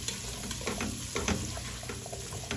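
Vegetables tossed and stirred in a seasoned pot for beef stew, giving a soft steady sizzle with scattered clinks and scrapes of movement, close and fairly quiet throughout.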